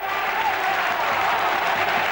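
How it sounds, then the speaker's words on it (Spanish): A stadium crowd at La Romareda roars in a steady, dense ovation for the team captain after a Real Zaragoza goal in a 1995 Cup Winners' Cup match against Feyenoord, sustained and loud throughout. "Escuchen la ovación de gala para el capitán"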